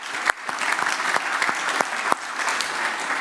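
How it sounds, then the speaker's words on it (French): Audience at the Nice Climate Summit applauds the governor of Tokyo, a full, close crowd clapping with a few sharp individual claps standing out from the steady roar. "On peut applaudir Madame le gouverneur de Tokyo."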